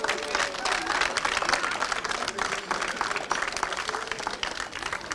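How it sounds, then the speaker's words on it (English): Steady applause from a sizeable crowd at a British Kart Championships podium ceremony, dense clapping that continues throughout at a lively, even level. "A huge round of applause, please"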